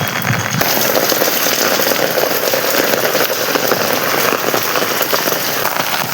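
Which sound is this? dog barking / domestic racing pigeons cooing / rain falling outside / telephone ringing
rain falling outside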